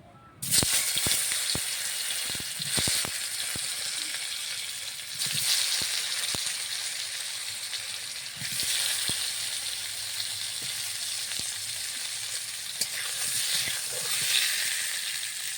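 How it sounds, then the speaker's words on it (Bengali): Potatoes fry in oil in a pan with a steady loud sizzle and occasional sharp crackles and pops, continuous and close, with no talking. "নামিয়ে দিয়ে আলুগুলো ভেজে নেব তেলে।"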